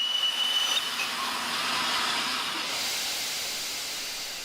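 The restored Flying Scotsman steam locomotive gives off a broad, loud hiss of steam that starts strong, then slowly fades and thins, with no talking over it.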